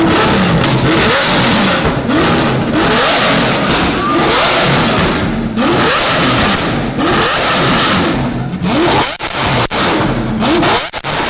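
A Lamborghini with a Valvetronic exhaust revs hard and loud, its engine note rising and falling in repeated aggressive bursts with pops and thumps, close by and continuous.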